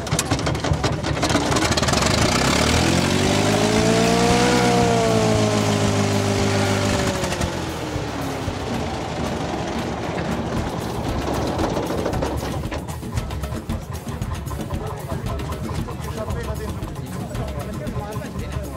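Petrol-engine vintage vehicle arriving at a threshing festival in Ponte Buriano, its loud rumbling engine revving up then settling, with crowd chatter and a voice speaking over it.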